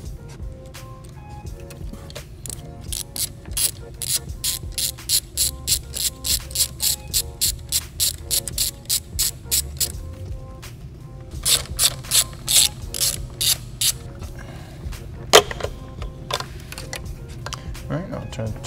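A ratchet loosens a T30 Torx bolt on the turbo inlet pipe of a VW Mk7 GTI, clicking in fast, close bursts of rapid pawl ticks with short pauses between strokes and some faint mechanical noise in the background.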